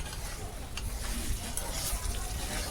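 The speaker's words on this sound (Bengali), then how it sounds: "একটুখানি হিট দিয়ে আর একটুখানি তেলটাকে করে নিয়ে মশলাটাকে ভালো করে আর একটু ফ্রাই করবো" Masala sizzling in hot oil with green chillies for a bhetki fish bone dish, a steady broad crackle of frying with faint stirring over a low background hum.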